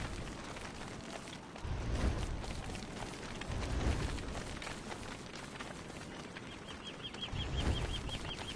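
Wings flap in the video game Don't Starve, a soft fluttering rush repeated several times in quick bursts over a low, faint game background.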